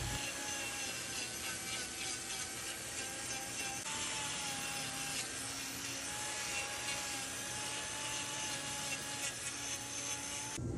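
Grinding trim of a dark red cow's hoof, a continuous loud abrasive whir with a steady motor drone running throughout and no talk.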